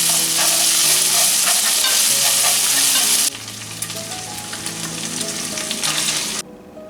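Shredded chicken stir-fried in a wok gives a loud, steady sizzle with scraping stirs that suddenly drops partway through, settling into a softer crackle before falling away near the end; no one speaks.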